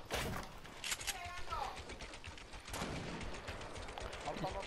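Gunfire in the video game Fortnite, bursts of crackling shots near the start and again midway under excited, near-constant talking.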